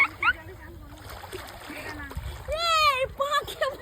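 Splashing in pond water while two people bathe outdoors, with soft scattered splashes and sloshes under frequent talking and a high child-like voice, plus one louder splash near the end.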